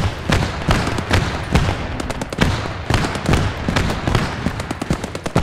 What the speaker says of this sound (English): I hear shots everywhere